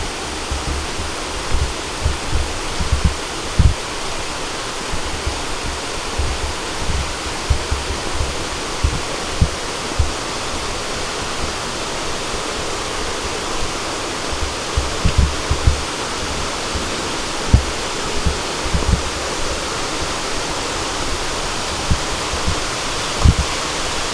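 Ciwalen waterfall on the Cibodas canopy trail in Gunung Gede Pangrango National Park, a steady, dense rush of falling water that fills the whole clip at an even, strong level with soft low thumps underneath.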